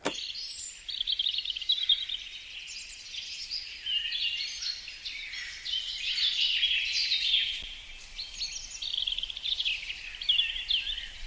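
Several birds chirp and sing in the Halle forest in Belgium, high bright phrases overlapping continuously in a quiet woodland with no talking.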